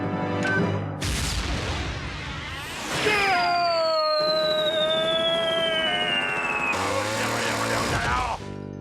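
A Looney Tunes cartoon cannon blast booms, followed by a long descending whistle as something flies off, with busy comic sound effects around it.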